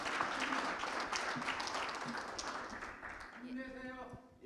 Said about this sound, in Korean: 우리 김재금 의원님 다시 한번 박수 부탁드립니다.